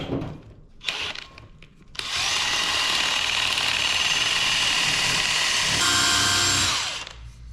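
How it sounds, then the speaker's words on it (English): A brake lathe cuts a car brake rotor in a workshop, a steady loud grinding whir running continuously for several seconds after a few short bursts of tool noise, then winding down at the end. "We'll just chuck this rotor up on the brake lathe quick"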